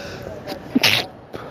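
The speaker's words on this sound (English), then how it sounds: "I sneezed." A single sharp sneeze bursts out close to the microphone against a quiet background, with faint murmuring around it.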